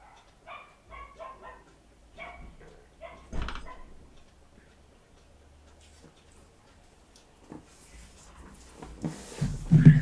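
Dogs bark in short bursts, a quick volley of yaps early on and another louder flurry near the end, fairly close against a quiet room with occasional ticking.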